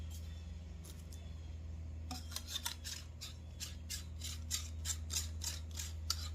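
Plastic extension tubes screwed onto a rechargeable aquarium cleaner give a rapid series of faint close ratcheting clicks and rubbing over a low steady hum.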